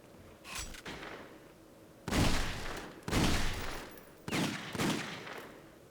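Shotgun blasts in The Godfather video game, a few heavy booming shots spaced about a second apart, loud and close, with faint crackling between them.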